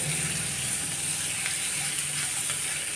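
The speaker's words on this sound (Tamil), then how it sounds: "இந்த வெங்காயம் லேசாக வதங்கினா போதும் இதில் கேரட் போட்டுருங்க" Onion and carrot sauté in a hot pan for rava paniyaram, giving a steady, close sizzling hiss that runs unbroken throughout with faint stirring movement.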